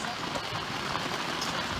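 Steady rain falls on a sailboat drifting at sea in the doldrums, a continuous broadband patter that stays even and fairly loud throughout, with no talking.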